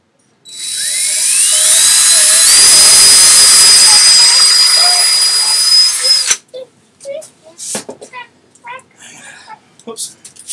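A power drill whines up to a loud, high steady pitch as it bores a hole into a DIY percussion table, running about six seconds before cutting off abruptly, followed by someone talking close by.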